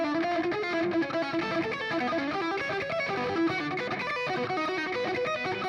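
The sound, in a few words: distorted electric guitar arpeggio played with string skipping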